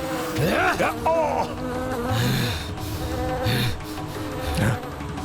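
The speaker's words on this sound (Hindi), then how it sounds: "ये भिनभिनाहट जैसे असंख्य कीट एक साथ ध्वनि उत्पन्न कर रहे हैं।" Dense buzzing of countless insects hums continuously in a Hindi mythological TV drama, swelling in low droning pulses that rise and fall, with no speech.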